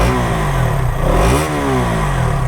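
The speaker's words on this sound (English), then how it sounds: "Let's give a bit of a throttle." A KTM Duke 200 motorcycle engine revs up sharply with a throttle blip, then settles back toward idle; loud and close.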